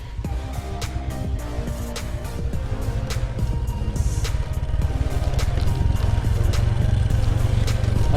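A manual motorcycle rolls down a steep, foggy village road on engine braking, its low engine drone steady and close throughout, rising slightly in loudness toward the end with no talk.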